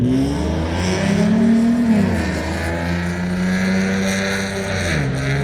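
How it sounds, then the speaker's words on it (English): A loud engine roars steadily nearby, its pitch sliding up and down as it revs and passes, filling the whole clip. "Why the fuck do people want loud vehicles?"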